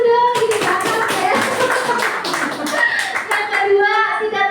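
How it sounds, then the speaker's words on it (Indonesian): A schoolroom class claps together in a brisk burst of many hands, steady and fairly loud, with children's voices and a teacher speaking mixed in throughout. "tepuk tangan dulu dong"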